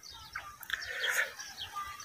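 Faint bird chirps and tweets scattered across an open sorghum field, soft and distant with light rustling background.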